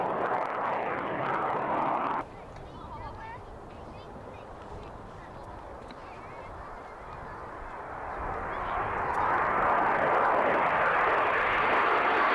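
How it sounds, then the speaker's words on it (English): A jumbo jet flies overhead, a broad steady engine roar that fades then builds again louder toward the end, heard from some distance with faint voices. "So then, Gordon, how far away is that jumbo jet"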